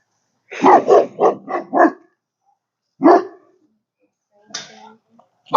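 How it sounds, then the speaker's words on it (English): A dog barks at an animal shelter: a rapid run of five loud, close barks, then a single bark after a pause and a softer whining yelp near the end, with no talking. "Oh, that's a cool dog."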